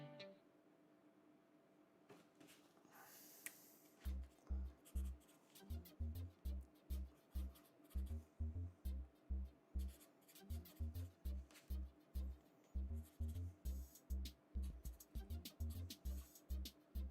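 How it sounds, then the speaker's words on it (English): A pen writes a short message on a mailing envelope during an order-packing session, heard as quick repeated scratchy strokes in bursts with brief pauses, close and fairly loud over a quiet room. "I wrote something on here, a phrase in Espanol"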